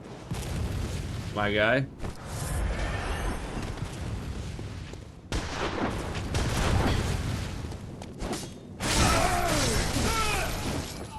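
An enemy hunter fires a gun in Bloodborne: several sharp, loud shots and impacts crack out amid clanking combat noise and game effects, with someone speaking briefly between them.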